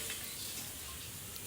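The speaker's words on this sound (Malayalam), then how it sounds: "ബോണ്ട പൊരിക്കുന്ന." Bonda frying in an iron pan gives off a steady, even hiss of bubbling oil, soft and continuous with no voices.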